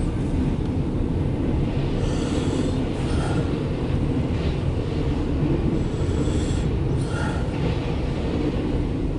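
CSX intermodal freight train passing on a cold winter day, a steady heavy rumble of wagons rolling by with faint metallic squeals and clatter, continuous and close.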